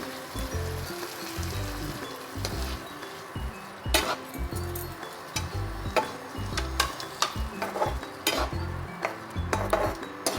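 Potatoes sautéing in a pan of spiced masala for a jackfruit-seed dhoka dalna, with a steady sizzle, repeated stirring scrapes and sharp metal clinks of a spoon against the pan, close and fairly loud throughout.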